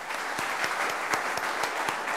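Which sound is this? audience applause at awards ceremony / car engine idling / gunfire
audience applause at awards ceremony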